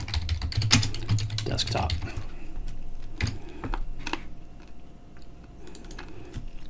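Keys tapped on a computer keyboard while a folder name is typed in, a quick run of clicks near the start followed by scattered single taps, with a voice speaking briefly among them.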